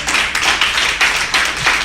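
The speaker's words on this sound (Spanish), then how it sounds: "¿Me puedes dar un aplauso a Jesús?" A church congregation claps for Jesus during a sermon, with close, loud rhythmic clapping in a steady beat of roughly three claps per second and no talking.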